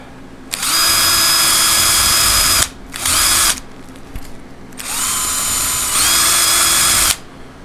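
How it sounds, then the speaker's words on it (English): A power drill whirs loudly in three bursts while restoring an Albany cutter part, the motor revving up and winding down between them, with short pauses of quiet. "I'm gonna drill right-handed."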